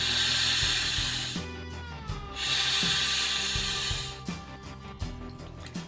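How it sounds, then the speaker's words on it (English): Two long, steady breaths are blown into an inflatable bag with a conventional valve, each a sustained airy rush, over a background of steady tones. "first I'm going to blow into this bag with a conventional valve."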